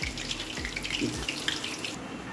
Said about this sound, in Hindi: इस तरह से आराम से हम इनको इनमें रख देंगे और लो टू मीडियम गैस पे हम इन्हें फ्राई करेंगे